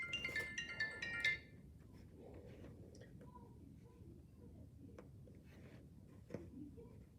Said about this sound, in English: my phone keeps going off